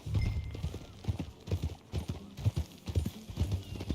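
Horse hooves in Red Dead Redemption 2 pound out a steady, close clip-clop at a riding gait for the whole stretch, with a brief whinny mixed into the rhythm.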